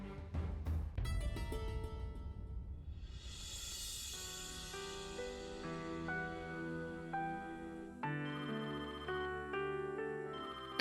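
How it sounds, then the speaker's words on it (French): A telephone rings indoors with an electronic, melodic ringtone that plays as a run of bright tones and repeats without pause, moderately loud and with no one talking over it. "tu peux répondre au téléphone, s'il te plaît?"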